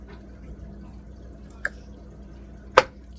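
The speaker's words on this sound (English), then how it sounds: "I'll put a little more sauce over those." Homemade tomato sauce spooned over baked ziti, two brief wet plops a little over a second apart against a quiet kitchen background.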